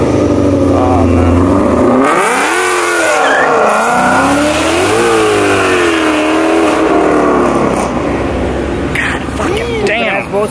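A Ford Mustang's engine revs hard and loud at a car event, roaring and rising and falling continuously for about ten seconds, with a crowd talking and shouting throughout.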